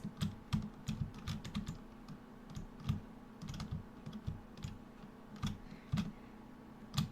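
Computer keyboard keys pressed in irregular clicks and short bursts, sometimes two at once, while moving a box around in a GameMaker game; crisp, close taps with no talking over them.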